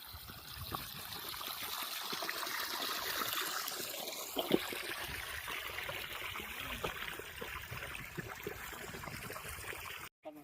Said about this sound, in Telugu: కాయలకి అయితే నీళ్ళు పడుతున్నాము నీళ్ళు పట్టి ఇప్పుడు మొక్కలు ఉన్నాయి కదా